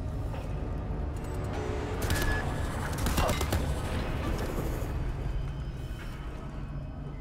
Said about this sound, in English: Who was shooting?